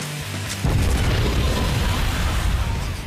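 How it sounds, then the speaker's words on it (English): A huge car explosion on the Destroy Build Destroy game show, a sudden deep boom followed by a sustained rumbling roar, loud and close, with no talking. "Explosion was the biggest one I've ever seen, even in movies."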